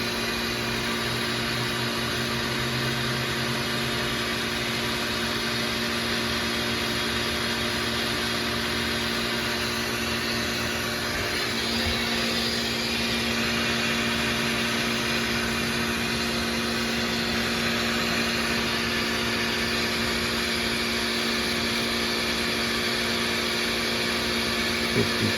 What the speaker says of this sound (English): Pump is running.